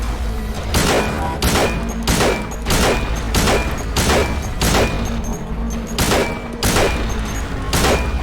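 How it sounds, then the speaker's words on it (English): Gunfire in the video game Silent Hill 2 during a boss fight, with loud evenly spaced shots repeating roughly every three-quarters of a second, about a dozen blasts in steady rhythm with no talk. "And just spam shoot him."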